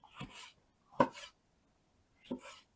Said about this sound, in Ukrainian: Порізати на частини